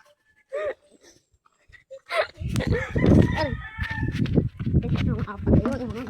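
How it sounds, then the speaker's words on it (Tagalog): Chicks give a few thin, high peeps that grow busier and come through under loud nearby talking, with some rooster-like calls mixed in. "Papakita namin sa inyo ang aming mga sisiw."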